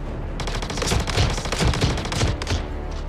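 Shotgun fire in the Star Citizen video game: a rapid, dense volley of loud booming shots in close succession, lasting about three seconds with no talking over it.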